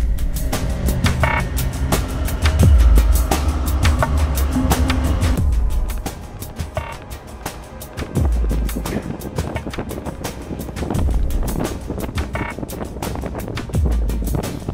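Strong mountain wind near the summit of Mont Blanc buffets the microphone in heavy gusts, rumbling low and roaring, easing briefly before surging again several times.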